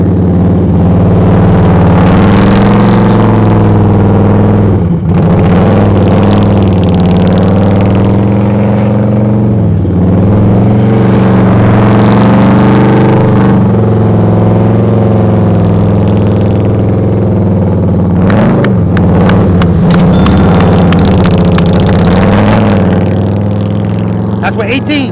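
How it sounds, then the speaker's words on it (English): Several motorcycles at an advanced slow-speed riding practice session rumble and rev steadily throughout, with their engine drone loud and continuous and swelling at moments. "there are a lot of motorcycles there."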